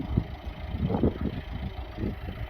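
A 2011 Citroën C3 1.6 e-HDI diesel engine idles nearby with a low, uneven rumble and soft knocking pulses, steady at a moderate level with no voices.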